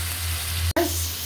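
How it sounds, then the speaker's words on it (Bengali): Fish fries in a pan with spices, including garlic and onion paste, a steady close sizzle with a brief cutout near the middle. "তো একটু মশলার উপর মাছটা ভাজা ভাজা হোক।"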